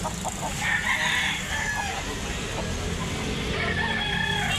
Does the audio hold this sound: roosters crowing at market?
yes